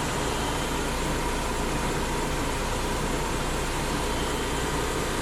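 Baldor 8100W bench grinder, a three-quarter horsepower 115-volt machine running at 1800 RPM, giving a steady broadband hum and whir that holds even and unbroken from start to finish.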